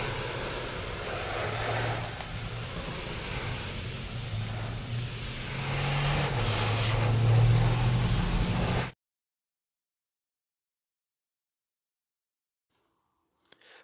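A spray gun lays a primer coat on a 1966 Ford Mustang body in a paint shop, giving a steady, close, loud hiss for several seconds before it cuts off abruptly into silence.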